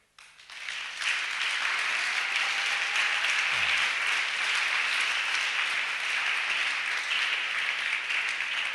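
A church congregation claps in dense, sustained applause during a service, starting after a short quiet moment and holding steady and loud to the end.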